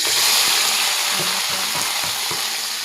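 Okra fries in oil for a tamarind kuzhambu, a loud, dense, steady sizzle with faint stirring scrapes underneath, close and continuous with no talking.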